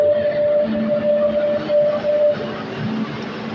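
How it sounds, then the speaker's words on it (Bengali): A metro train slowing to a stop at a station in Spain, with a steady tonal whine and rumbling wheel noise that eases off partway through, loud and close, with no talk. "এখন মেট্রোটা থামিয়ে নিবে।"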